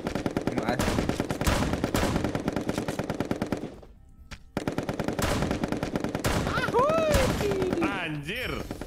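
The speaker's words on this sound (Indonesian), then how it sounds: "Tembak aja ini mah, dapat poin kan nembak." Rapid automatic gunfire in the Pummel Party battleground minigame, dense continuous bursts broken by a short pause, with players talking and exclaiming over the shooting.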